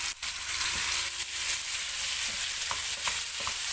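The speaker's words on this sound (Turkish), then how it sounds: "tavuklarımızı kavurmaya bırakıyoruz" Chicken sizzles and crackles steadily in a hot pot, with occasional scraping stirs and light clinks.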